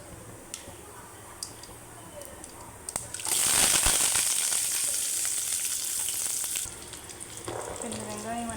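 Onions and dried red chillies frying in a pan, loud sizzling that bursts in partway through and holds steady for a few seconds before easing, preceded by quieter kitchen ticks and followed by a faint low hum.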